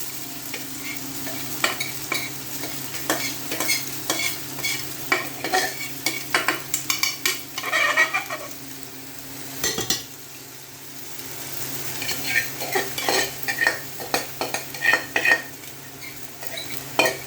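A fork scrapes and clinks repeatedly against a pan as frying food is stirred, with a steady low sizzle underneath and bursts of busy metallic tapping throughout.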